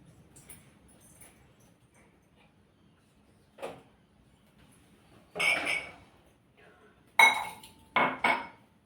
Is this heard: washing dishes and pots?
yes